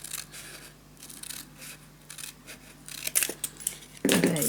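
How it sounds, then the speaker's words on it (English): Scissors snip through craft paper along a marked line for a scrapbook storage tower, a few quiet cuts building to sharper, louder snips near the end, close and alone. "just cut down just along the mark"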